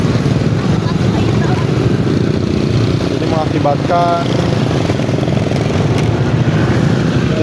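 Motorcycle and car traffic crawling along congested Jalan Raya Gabus in Bekasi during road widening work with heavy equipment, a steady close engine drone throughout with brief tonal chirps midway, while someone talks over it.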